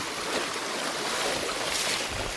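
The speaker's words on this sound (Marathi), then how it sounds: "आमची ही भारदा नदी टॉप पूर्ण भरलेली आहे बघा एकदम जोराची वाहते" The Bhadra river in the Konkan runs swollen to the brim after torrential rain, a steady broadband rush of fast water that holds close and fairly loud throughout, with no voices.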